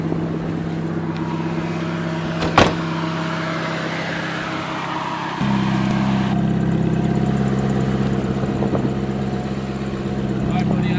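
A Ferrari F430 Spyder idles with a steady, deep engine hum, then steps up to a louder, fuller idle midway. There is a sharp click early on, and voices can be heard near the car.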